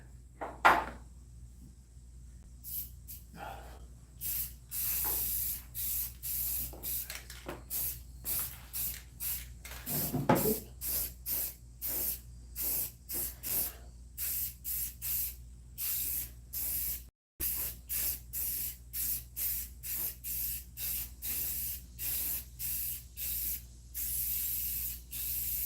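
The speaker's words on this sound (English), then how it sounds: "See if it'll spray." Short repeated bursts of an aerosol spray can hissing, fitted with a blue tip, used during body work on a truck, many close, loud spurts in an irregular rhythm with a brief pause near the middle.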